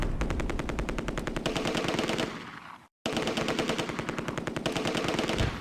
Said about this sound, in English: An MG42 opens up from the Romans' plain area and I target it with the mortar.